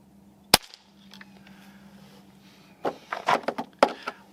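A Crosman 362 100 Year Anniversary Edition airgun fires one sharp, close crack, followed by quiet room tone and then a few clattering handling knocks.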